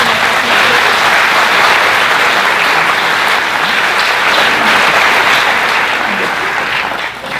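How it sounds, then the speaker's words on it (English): Audience applause at a school district convocation, dense sustained clapping from a large crowd filling the hall for several seconds before beginning to fade at the end. "let's give them a round of applause for being here."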